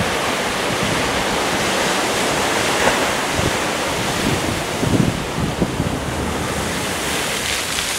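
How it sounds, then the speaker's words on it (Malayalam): Rough, storm-driven sea waves crash on the coast at Ayikkara in Kannur city, a continuous loud roar of surf with wind buffeting the microphone and a few heavier breaking surges. "കണ്ണൂർ സിറ്റി ആയിക്കര മൈതാനപ്പള്ളി തയ്യിൽ മേഖലയിലാണ് കടൽക്ഷോഭം ശക്തമായിരിക്കുന്നത്."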